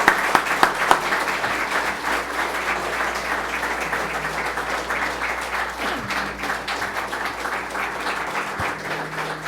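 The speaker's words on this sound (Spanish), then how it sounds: "vamos a recibirlo con un fuerte aplauso" Loud, sustained applause from a church congregation welcoming Dr. William Soto Santiago to the stage, dense clapping filling the whole stretch with a steady low hum beneath.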